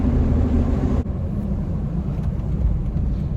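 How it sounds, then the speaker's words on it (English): Engine of a car with a six-speed manual transmission, heard while the driver downshifts: a low, steady rumble that shifts abruptly about a third of the way through, then carries on with a duller, deeper tone, with no talking. "he's actually downshifting to not use the brakes as much"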